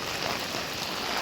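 Heavy rain pours down steadily during Typhoon Kristine amid flooding, a dense, constant hiss of downpour with no gaps, loud and close.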